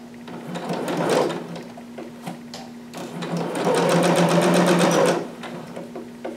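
A sewing machine stitches fabric for a harem jumpsuit in two close, fast-rattling runs with a brief pause between them, then a few soft handling clicks as the fabric is turned.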